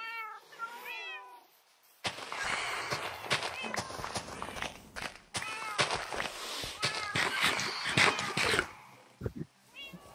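Cats meow repeatedly in a video game as they are pushed into a pit, with shrill cries and yowls over a busy game soundtrack and scuffling steps.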